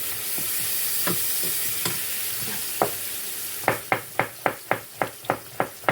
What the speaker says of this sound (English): Control the heat up a bit, just to have the frying sort of noise.